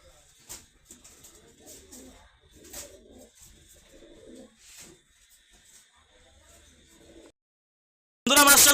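Danish pigeons coo softly at a pigeon farm in repeated low, burbling calls at close range, with quiet shuffling between them, a silent gap, and then a sudden loud burst at the end.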